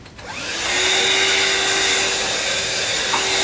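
A vacuum cleaner switches on near the mic during a furniture repair job, quickly rising to a steady, loud whine with a constant tone that holds for several seconds.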